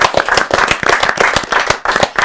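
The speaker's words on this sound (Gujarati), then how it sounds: "ખૂબ ખૂબ ખૂબ તાળીઓ સાથે ચિરાગભાઈ." An audience claps loudly for a guest on a Gujarati film podcast, a dense and close burst of applause with rapid overlapping hand claps throughout and no talk.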